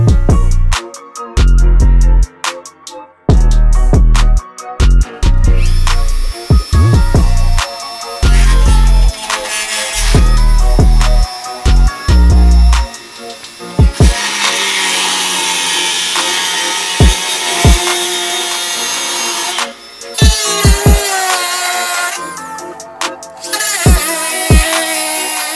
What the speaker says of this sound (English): grab the Dremel and start cutting away at that